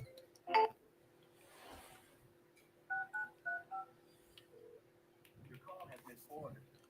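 Dialing tones from a smartphone placing a call: a quick series of four clear beeps followed by a few more tones, quiet and close, with a voice briefly talking before them.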